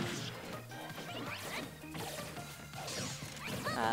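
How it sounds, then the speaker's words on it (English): Forward smash landing in a Super Smash Bros. Ultimate tournament match, Hero versus another player in losers finals; a sharp hit impact amid dense game music and effects, with commentary voices over the top. "he just F-smashes him right in the face"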